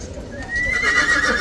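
A horse lets out a loud, rising whinny up close, and soft hoof clops sound beneath it in a brief burst.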